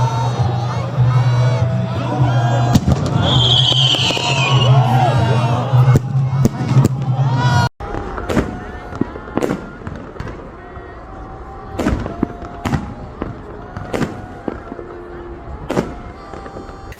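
Sharp fireworks bursts crack and pop irregularly across a city celebration in Tehran, first over a dense crowd roar with chanting, then as scattered loud blasts echoing in the open night, with voices talking.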